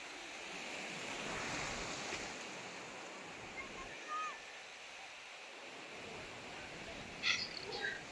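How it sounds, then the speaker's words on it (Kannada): Sea waves washing onto a shore, a steady broad roar of surf with gentle swells, heard from nearby under some wind noise, with no talking. "ಎಷ್ಟು ಚೆನ್ನಾಗಿ ಅಲೆ ಬರ್ತಾ ಇದೆ ನೋಡಿ."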